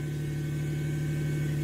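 A Lexus GS300 engine, running again after a faulty coil was repaired, idles steadily with a smooth, even hum close by.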